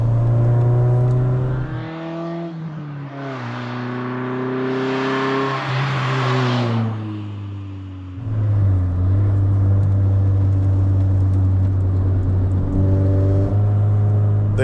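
A Honda Prelude on cheap tires and stock suspension, its engine loud and close as it revs up through the gears, with a pitch that rises, drops at each shift and climbs again under steady acceleration.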